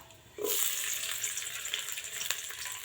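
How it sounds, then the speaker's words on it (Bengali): Peanuts and grated coconut hit a hot pan and set off a sudden, loud, continuous sizzle. The frying then hisses steadily with small crackles and no talking. "ফার্স্টে চিনে বাদামটা ভালোভাবে একটু ভাজবো।"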